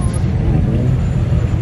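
A Dodge Charger at an evening car meet gives off a loud, close, low engine rumble that holds steady for a moment as it drives past.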